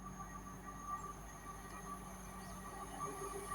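A Class 170 passenger train rumbles past at a distance near South Gyle, with a steady mechanical hum and faint tonal whine, no voices.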